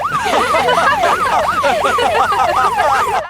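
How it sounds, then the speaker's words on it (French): A loud, fast warbling police car siren cycles up and down steadily and continuously, with faint traffic noise underneath. "mets la sirène en marche"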